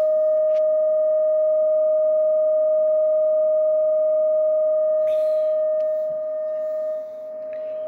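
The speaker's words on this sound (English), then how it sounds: "then we're using 600 hertz sine wave tone on the AM." A 600 Hz AM sine tone from a Hantek signal generator, received on a Kenwood TS-940 radio: one steady, pure whistle that holds level throughout, with faint static flicks and a slight drop in level near the end.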